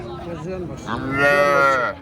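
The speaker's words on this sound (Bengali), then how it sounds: "এ হচ্ছে সাইবালের বাছুর" A male Sahiwal bull calf, two to four months old, at a cattle market gives one loud, drawn-out moo that rises and swells near its end, heard close up over low background hubbub.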